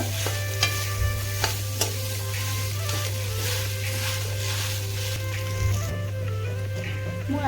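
Potatoes being stirred in a frying pan for bread pakoda, a steady sizzle under repeated scraping and clinking of the spoon against the pan, with a constant low hum throughout; no speech.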